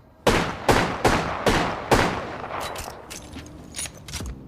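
Six sharp, loud electronic gunshot bursts from a JAKKS Pacific Wingman toy pistol fire in quick succession, followed by a quieter scatter of clicks and smaller pops as the rapid-fire sequence trails off.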